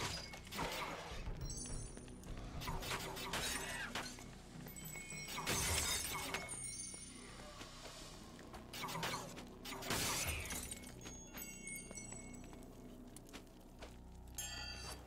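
Objects shatter one after another in the PC video game Saga of Sins, a series of sharp breaking crashes with chiming, glassy debris over busy game sound.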